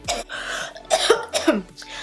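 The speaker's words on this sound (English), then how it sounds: "I'm really sorry if I'm coughing a lot in this video" A person coughs four times in short, harsh bursts with brief pauses between, close to the microphone.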